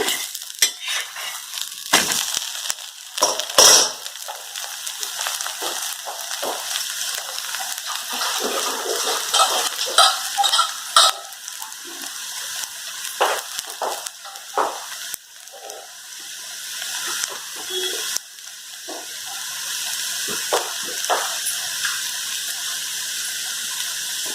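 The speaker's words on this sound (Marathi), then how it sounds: "खरपूस भाजून घ्या मस्त" Spiced thalipeeth flatbread roasting crisp on a hot pan, a steady sizzle and crackle with intermittent scraping and clinking of a spatula against the pan throughout.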